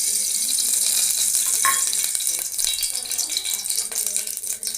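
Mustard seeds, dried red chillies and curry leaves sizzle in two spoons of hot oil for a rasam tempering, a steady close crackling hiss with occasional pops and small rattles of the pan.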